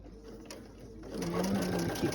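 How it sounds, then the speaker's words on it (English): A sewing machine stitches steadily along a curve, its motor hum rising and running continuously up close, quieter for the first second before speeding up. "And I am going to stitch that curve."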